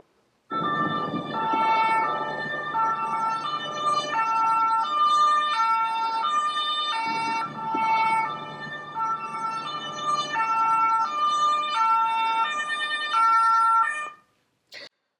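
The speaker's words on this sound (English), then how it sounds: "we can see that when the siren sound played, that we had multiple detections of the siren" An ambulance-style siren plays loudly and steadily for about thirteen seconds, alternating between two tones in a regular rhythm, then cuts off abruptly. It is played back as test audio for a siren detection model.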